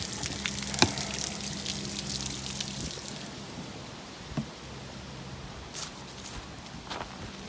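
Water drains from a camper's water heater during winterizing, a soft steady trickle and patter at low level with a hum underneath and occasional small knocks and clicks nearby.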